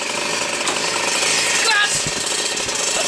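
A moped engine fitted with an oversized carburettor jet runs flat out, producing a harsh, buzzing, rattling drone at close range with fairly constant loudness.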